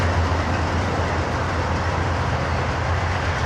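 An Amtrak Hartford Line train idles at a station platform, a steady low diesel rumble with constant broadband noise, close by and unchanging for a few seconds.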